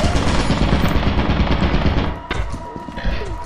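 Dense automatic gunfire in the co-op horror game Lethal Company, loud and continuous for about two seconds, then dropping to scattered quieter shots and thumps.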